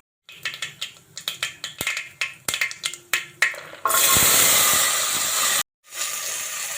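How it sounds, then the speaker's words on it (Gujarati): Tempering oil with mustard seeds, cumin and ajwain crackles in sharp, irregular pops, then guar beans go in with a sudden loud burst of hissing sizzle that breaks off briefly and resumes, close up. "આપણે ગુવારને નાખી દઈશું।"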